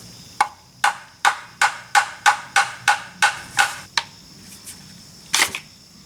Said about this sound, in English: Carefully drive sight rail rivets off the top.